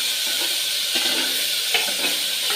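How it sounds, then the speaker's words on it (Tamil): Tomatoes sautéing in a hot pan give a dense, steady sizzle and hiss close by, with faint scraping stirs now and then and no talking. "அது கூடவே தக்காளி போட்டு நல்லா வதக்கிக்கலாம்."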